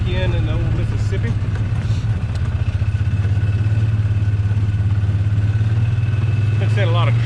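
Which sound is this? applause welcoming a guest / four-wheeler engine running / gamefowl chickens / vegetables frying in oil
four-wheeler engine running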